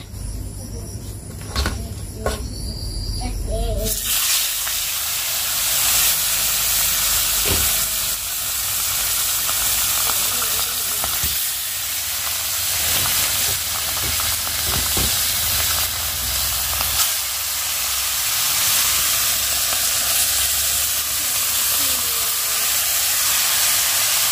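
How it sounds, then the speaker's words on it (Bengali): Fish rubbed with salt and turmeric fries in a hot wok, a loud bright sizzle and hiss rising after a few seconds of kitchen clatter and holding steady, with brief scraping and handling noises throughout. "তো এক সাইড খুব সুন্দর করে ভাজা হয়ে গিয়েছে, আর এক সাইডটা আমি ভেজে নিচ্ছি।"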